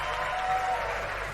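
Applause from the live audience of staff at the 2023 Aston Martin Aramco Cognizant F1 Team car launch, a steady, full burst of clapping throughout the short moment.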